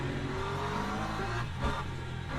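McLaren race car in the Le Mans Ultimate sim at Silverstone: a steady, loud engine drone with a brief rise in pitch, heard alone.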